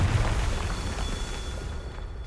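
The Confringo fire spell going off in the Hogwarts Legacy video game, a loud, sustained blast of roaring rumble that holds steady for its whole short length.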